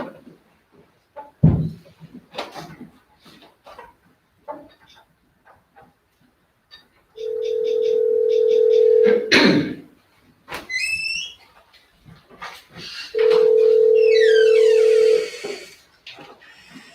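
A steady telephone tone plays over a speakerphone in a board meeting room, sounding twice as sustained flat tones of about two seconds each, separated by brief clicks and handling noises.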